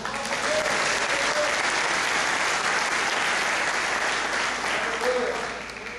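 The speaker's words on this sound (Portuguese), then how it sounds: "Você pode aplaudir ao Senhor?" Church congregation applauding during a Portuguese-language worship service, a loud, continuous roar of clapping that holds steady and eases slightly at the end.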